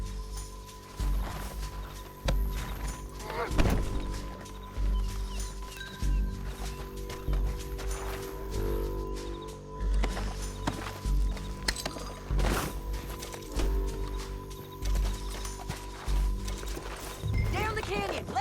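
Horse hooves clip-clopping steadily in the Red Dead Redemption 2 video game, a continuous rhythmic trot running through the whole stretch, mixed with game voices and other in-game sounds.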